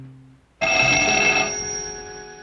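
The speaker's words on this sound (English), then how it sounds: "There's one sure way to start a phone ringing." A cartoon telephone bell rings suddenly after a brief quiet moment, a loud, bright sustained ring that slowly fades.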